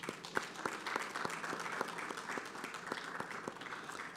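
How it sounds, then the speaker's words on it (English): Audience applause greets a moderator walking on stage at an African summit conference, individual claps standing out sharply over a steady bed of clapping from a moderately sized crowd, spaced and slightly uneven. "A round of applause as he comes on stage."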